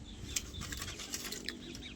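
Pigeons take to the air with a faint, rapid fluttering and pattering of wings that continues steadily for a couple of seconds.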